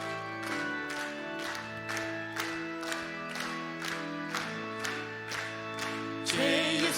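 A church congregation claps in a steady, even rhythm, roughly one clap every half second, while singing hymn 268 to organ or keyboard accompaniment at a Wednesday evening service, with a louder swell of voices near the end.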